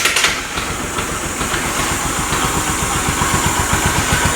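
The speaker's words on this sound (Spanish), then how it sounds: "tal vez en la grabación suena un poco extraño el motor" A Bajaj Pulsar 135 motorcycle engine idling after a clutch repair, a close, steady, rapid rhythmic putter that runs continuously with no talking.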